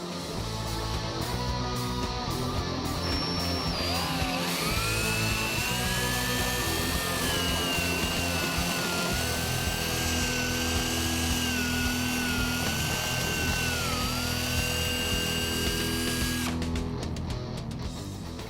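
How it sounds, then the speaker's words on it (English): A power drill bores an 11/16-inch hole through a 2013-2014 Mustang panel for an LED puddle light, a sustained whining drone that shifts pitch as the bit bites, running steadily and close for nearly twenty seconds. "You want to drill this hole out to 11/16."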